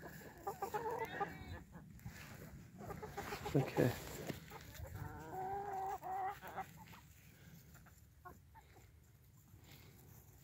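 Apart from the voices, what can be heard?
chickens clucking while pecking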